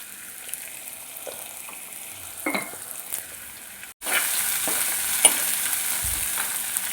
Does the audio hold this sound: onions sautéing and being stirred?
yes